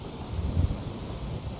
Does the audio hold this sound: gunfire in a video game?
no